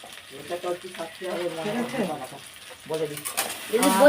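Garlic sizzles and fries in a cooking pan, a steady crackle running under close, continuous conversational talk, with stirring noises and a louder burst of frying near the end.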